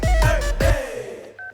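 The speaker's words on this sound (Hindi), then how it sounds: "बाबा आदम के जमाने के फोन से किसे फोन कर रहे हो?" An old-fashioned rotary telephone is dialled in a comedy film scene, giving a few quick clicking, whirring rotations close up, followed by a brief tone as the dial settles.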